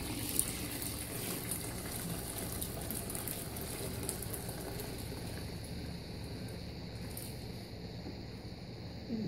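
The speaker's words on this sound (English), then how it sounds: "Pour it in there, look at that. Minimum spillage." Homemade laundry detergent liquid pours steadily into a container, a continuous gushing, splashing flow that stays close and fairly even throughout with no talking over it.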